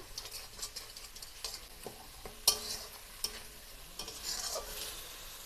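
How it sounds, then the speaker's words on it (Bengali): Spice paste fried in oil for a pointed gourd dish, a soft sizzle punctuated by sharp spoon scrapes and taps against the pan, close and with no voices. "মশলাটা ভালো করে কষিয়ে নিতে হবে"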